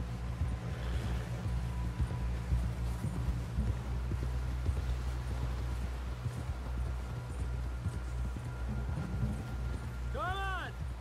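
Horse hooves clip-clop at a steady trot in the Red Dead Redemption 2 video game, rhythmic and continuous over a low rumble, with a voice speaking near the end.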